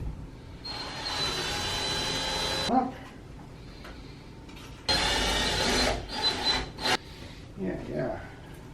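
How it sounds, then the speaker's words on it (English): A power drill bores into an apartment wall in two long, loud bursts, each followed by brief whirs and knocks, with a short spoken word between them. "You're gonna drill it in."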